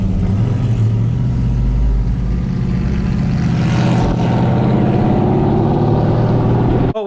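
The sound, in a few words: Shelby GT muscle car driving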